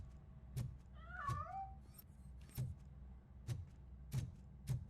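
A cat escaping in Robocop: Rogue City gives one short wavering meow. Regular dull footstep-like thuds and a low background hum sound around it.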